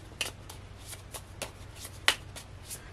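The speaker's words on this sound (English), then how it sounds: "This deck is always hard to shuffle because it's only about 13 cards" A small deck of about 13 tarot cards is shuffled, giving quiet, irregular riffling bursts with a sharper snap near the end, close by and heard alone.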